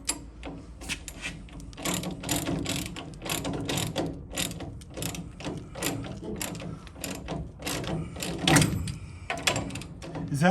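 A ratchet socket wrench clicks in repeated bursts while working on the coil-over suspension of a Mustang Fastback, each pull a quick run of close pawl clicks, with brief mechanical knocks between strokes.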